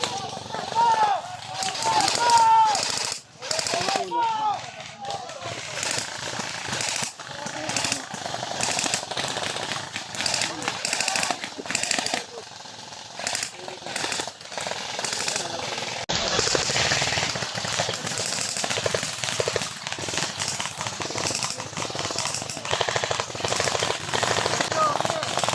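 Gunfire cracks in rapid bursts of rattling shots during a Rakrakan event, some near and sharp, others more distant, with people talking and shouting over the din.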